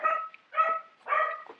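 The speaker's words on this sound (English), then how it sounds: "I apologize for the dogs barking in the background" Three separate dog barks come in a steady rhythm at moderate loudness, each a short, slightly whiny bark a few tenths of a second long, set against a quiet indoor background with no speech.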